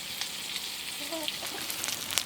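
Eggplant, potato and onion fry in fish oil with a faint, steady sizzling hiss heard up close in a short burst, with a few light crackles.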